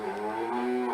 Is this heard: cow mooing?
yes